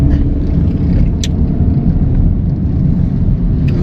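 A heavily loaded truck climbs a hill on a mountain road, its engine a loud, steady low rumble heard close and continuously, with faint clicks above it.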